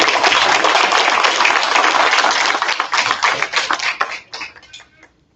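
Loud, dense applause from a school board meeting audience greeting the band director, steady for about three seconds before thinning into scattered claps and fading out.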